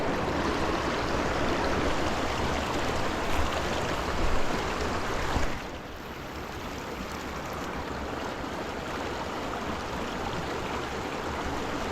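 A small mountain brook trout stream rushes steadily over rocks as a close, continuous broadband wash, easing slightly in level about halfway through with no voices.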